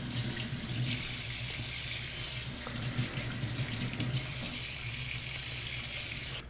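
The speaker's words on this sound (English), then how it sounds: "So just wash all those basilicum leaves." Kitchen faucet running steadily into a sink while fresh basil leaves are rinsed for pesto, a constant close splashing rush with no pauses and no talking.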